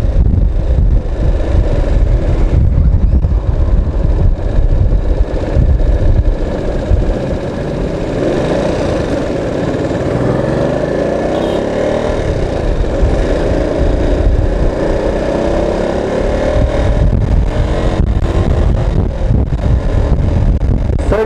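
Motorcycle ridden through downtown Davao City, a loud close engine drone with heavy wind buffeting over the microphone, the pitch dipping and rising with gear changes and revs throughout.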